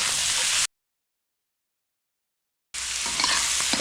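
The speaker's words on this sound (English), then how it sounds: "Now we're going to add our meat and vegetable mixture. Okay, and we're going to stir fry that for 2 to 3 minutes." Meat and vegetables stir-fried in a wok with duck fat for smoked chicken fried rice, a steady close hiss and sizzle with scraping stirs, broken by a silent gap of about two seconds before the sizzling resumes.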